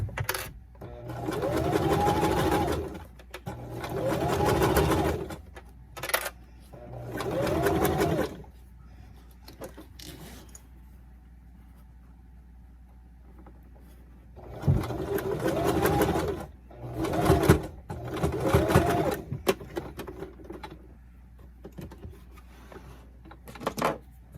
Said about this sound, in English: I think I'm going to sew it this way.